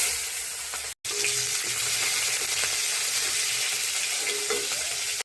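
Cumin seeds and green chilies sizzle steadily in hot oil, a loud close crackling fry that runs without a break apart from a very short gap near the start, with no talking.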